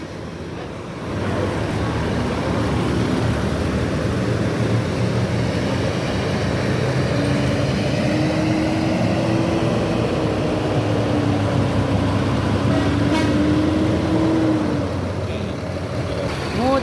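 Buses pull out of a bus terminal one after another in convoy, a loud, steady diesel rumble with a rising and falling engine tone and a brief horn-like whine, while someone talks over it.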